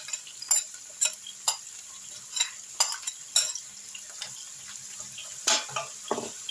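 Carrots and onion fry in a pan with a steady faint sizzle, broken by repeated soft scraping clicks of stirring at irregular intervals, close by with no voices.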